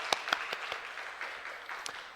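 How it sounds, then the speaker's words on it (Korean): Scattered, fairly light applause from a church congregation during a Laity Sunday service, with a few distinct claps standing out over a soft patter that fades toward the end. "우리 격려의 박수 부탁드립니다."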